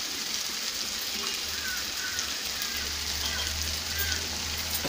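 Chilli powder is added to hot oil with lightly fried taro stolons, onion, green chilli and garlic for a small-fish dish, giving a soft, steady crackling sizzle over a faint low hum, quiet and continuous.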